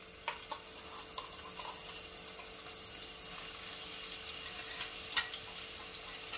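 Finely chopped onions hit a hot pan for a restaurant-style mixed vegetable dish, giving a steady, faint sizzling hiss with a few soft clicks and taps.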